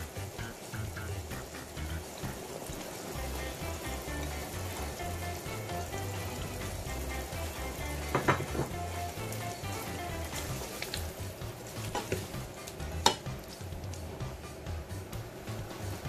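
Ginger and green chillies fry in oil for a chicken karahi over a medium flame, giving a steady broad sizzle with occasional scrapes of stirring throughout.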